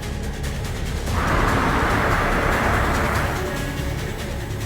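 A car drives at steady speed with a continuous, fairly loud engine and road rumble heard from inside, swelling slightly midway, with no talk over it.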